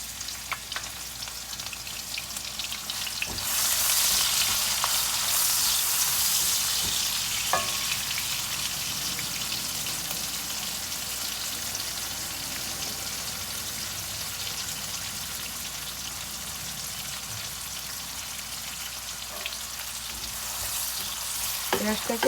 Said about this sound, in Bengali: এইভাবে সবগুলি তুলের মধ্যে দিয়ে দিচ্ছি এই পেঁয়াজ কুচি